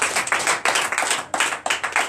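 A church congregation at a Sunday service claps in rhythm, with sharp, regular bursts of many hands at a lively, even pace.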